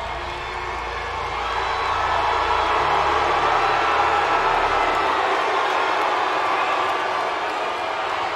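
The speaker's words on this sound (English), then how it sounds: "That silence immediately filled with the vitriolic jeers of the crowd" A large wrestling arena crowd roars with sustained jeering, a thick, continuous wash of voices that swells slightly and holds steady throughout.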